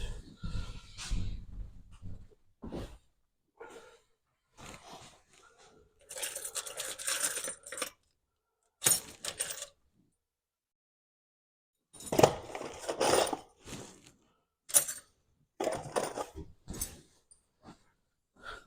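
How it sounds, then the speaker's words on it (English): Long 100mm screws being handled while working on a model railway baseboard, giving scattered short clinks, rustles and knocks in separate bursts, close by, with quiet gaps between them. "Got some 100mm screws there."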